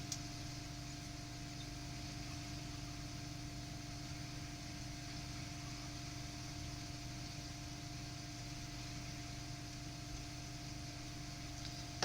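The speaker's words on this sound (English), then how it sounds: "It's purely because pumps are running from my moving bed in here, and that's the noise you can hear." Steady mechanical hum of koi pond pumps running through a moving bed filter, a constant tonal drone, unchanging for the whole stretch, fairly quiet and with no voices.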